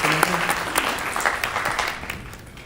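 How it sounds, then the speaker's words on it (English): An audience claps for a student at a spring coating ceremony, a dense burst of applause that starts strong and gradually fades away over a few seconds. "let's give Nathan a round of applause"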